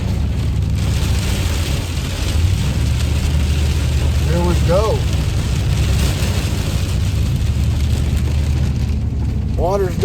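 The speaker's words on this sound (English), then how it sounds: "But it is raining its ass off." Heavy rain pouring down outdoors while trout fishing, a dense constant wash of noise, with someone speaking briefly and a few short whistling calls rising over it.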